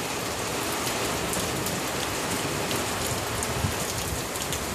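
Heavy rain pours steadily during a thunderstorm, a dense, even hiss of drops striking surfaces, close and loud with no voices.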